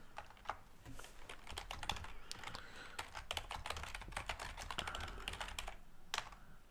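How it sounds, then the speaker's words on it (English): Keys clatter on a computer keyboard while someone works on a Raspberry Pi running OpenBSD: quick uneven bursts of sharp taps with short pauses, close and quiet, no speech. "I'm typing everything wrong"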